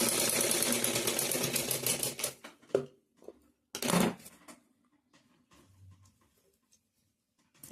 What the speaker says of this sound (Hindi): इस पर सिलाई लगा देंगे